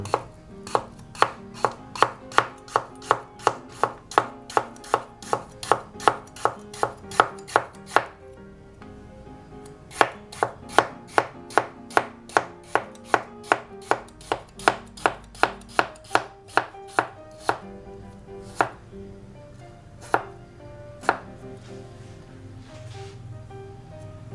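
A knife chops food on a cutting board for a Japanese glass noodle salad, steady rapid knocks in two long runs with a short pause between and a few scattered final strikes, close and clear with no voices.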